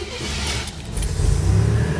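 A 1987 Buick Grand National with hidden issues: a brief jangle of keys, then the engine catches and swells into a steady, close low rumble.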